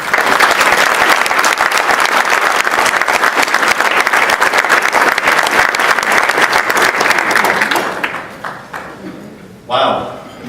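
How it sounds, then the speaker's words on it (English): Audience applauding at an award acceptance ceremony: dense, steady clapping that holds for about eight seconds, then fades out and tails off with a few scattered claps. "We applaud you."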